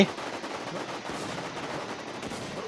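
Gunfire in the WarZ shooter game, a steady stream of rapid, somewhat distant shots rattling on without pause, moderately loud and with no talking over it.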